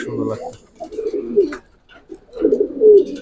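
Racer pigeons on a pigeon farm give soft, low, throaty coos in two close bursts separated by a brief lull, with murmured background chatter mixed in.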